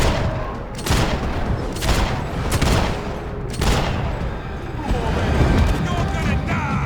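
Gunfire in the video game Max Payne 3, with several loud bursts of rapid shots and booming impacts arriving in repeated volleys about a second apart, close and harsh, with brief lulls between.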